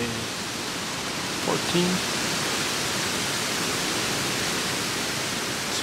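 Strong wind buffets the microphone outdoors during a hunt, a dense, continuous roar of broadband rumble and hiss that swells briefly; a voice speaks faintly under it.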